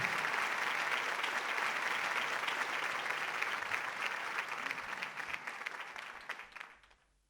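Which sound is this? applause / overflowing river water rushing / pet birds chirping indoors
applause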